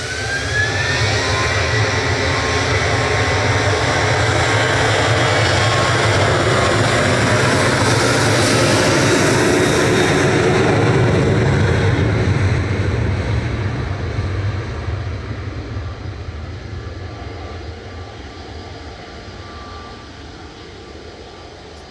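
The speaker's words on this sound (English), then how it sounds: "KLM departing now though to Amsterdam with flight 1028" A KLM jet airliner takes off from Manchester Airport bound for Amsterdam, its engines a loud, steady roar that swells mid-run and then slowly fades as it climbs away, with no voices over it.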